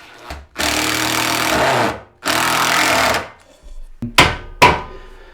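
A screw is power-driven through a loft board into a rafter in two long whirring bursts, followed by a couple of short sharp knocks, close and loud.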